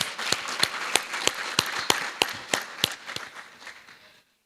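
Applause from a mental health symposium audience, a scattering of sharp claps over a steady patter that thins out and fades after about three seconds, with no talk.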